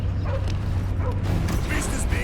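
Cosmo, the space dog in the Guardians of the Galaxy video game, gives a few short barks and yips close by, partly buried under busy game sounds and a voice talking.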